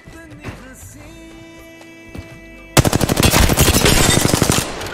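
Sustained rapid automatic weapon fire in the battle royale shooter Apex Legends, loud and close, erupting after a quieter stretch of tonal game sounds and continuing in a steady rattling volley.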